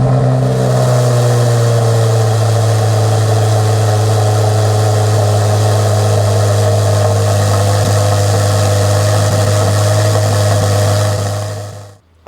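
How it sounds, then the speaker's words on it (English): A Chevrolet Corvette C8 Z06 engine cold-starts with a brief flare, then settles into a loud, steady high idle with a strong low drone for about twelve seconds before cutting off abruptly. "So for your benefit, we get to do a cold start."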